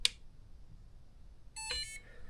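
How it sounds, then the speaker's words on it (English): A short high electronic beep from an FMS FMT10 RC vehicle after water got inside, followed by quiet, then a brief tonal chirp-like electronic signal; faint background hum, no speech. "What just beeped at me?"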